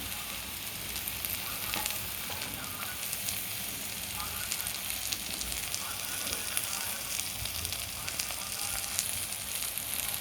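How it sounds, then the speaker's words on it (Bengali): Onions, garlic and green chilies fry in a pan with a loud, steady, close sizzle and fine crackling that runs unbroken the whole time, with no voices. "পেঁয়াজগুলোকে ভালোভাবে ভেজে নিলাম"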